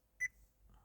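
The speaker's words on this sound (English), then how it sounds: "It beeps every time you touch it" A single short electronic beep sounds from an Android Auto touchscreen head unit installed in a Mitsubishi Delica L400 as it is touched, a faint clean tone over quiet cabin hum.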